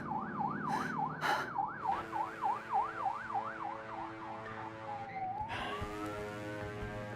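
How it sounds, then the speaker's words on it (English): Ambulance siren wailing in a fast, regular up-and-down warble, close and loud, then switching to a rising tone over street noise and a passing vehicle. "Follow the ambulance."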